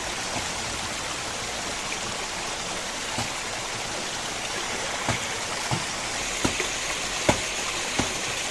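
A jungle waterfall flows in a steady, even rush from start to end, punctuated in the second half by a series of sharp, scattered knocks nearby.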